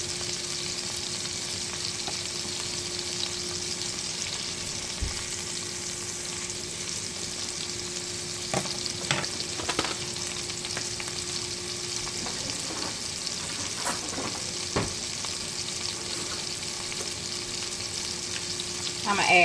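Burger patties for bacon double cheeseburgers sizzle and spit in a pan, a steady close crackle of frying with occasional louder pops and faint scraping, with no talking over it.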